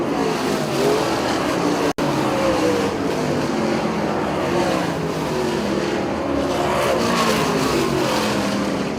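Super late model race cars in a heat race at Port Royal Speedway, their engines giving a loud, continuous roar that swells and recedes as the field passes, with no clear talk over it.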